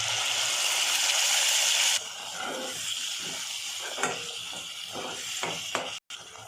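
Ginger garlic paste and a ground masala paste fry in a pan, a loud steady sizzle that drops in intensity after the paste goes in, with scraping stirs and a few utensil knocks near the end.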